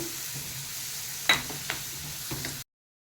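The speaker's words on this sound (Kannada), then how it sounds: "ಈರುಳ್ಳಿ ಹಾಕಿ ಸ್ವಲ್ಪ ಹೊತ್ತು ಫ್ರೈ ಮಾಡಿ ಸ್ವಲ್ಪ ಸಾಫ್ಟ್ ಆಗಲಿ ಈರುಳ್ಳಿ" Onions frying in oil in a pan for egg masala, a steady close sizzle with a sharp clank from a spatula and a few lighter stirring taps, no talking, then it cuts off abruptly.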